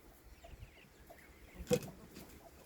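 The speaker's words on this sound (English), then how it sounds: "That was another chicken in there trying to lay an egg, probably." A hen clucks once, close and short, while trying to lay an egg, over quiet farmyard background with a few faint chicken sounds earlier.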